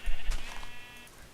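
A single sheep bleat from the video game Minecraft, a short wavering cry that rises and then fades within about a second, close and clear with no talk over it.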